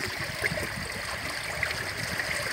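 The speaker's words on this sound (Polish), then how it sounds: "nurt wody, obijając się głównie o te opony, sprawia, że troszeczkę się nawet ta konstrukcja kołysze" Steady river current rushing and gurgling against tires beneath a floating platform at a Norwegian campsite, a continuous close, even wash of water with no talk.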